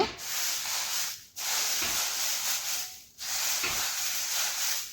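Home-roasted puffed rice made from ordinary rice is shaken through a sieve to separate out the roasting sand, giving a steady dry rustling hiss in long sweeps broken by brief pauses.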